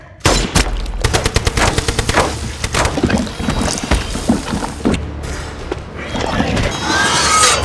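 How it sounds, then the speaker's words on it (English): Gunfire crackles in a rapid, uneven burst of loud sharp shots, close by and mixed with other noisy activity and voices, then gives way to a denser ongoing rumble. "All right, let's shoot him!"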